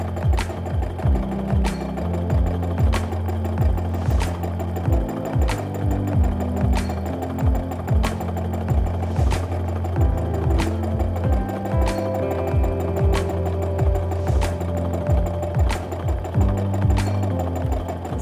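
A sewing machine stitches during free motion quilting, running in a fast, even mechanical chatter up close and pulsing in regular bursts throughout.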